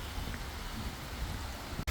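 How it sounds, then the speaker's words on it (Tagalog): A sudden heavy rain shower pours down outdoors as an even, unbroken hiss, with a brief sharp bump just before it ends and no voices. "biglang buhos ng ulan"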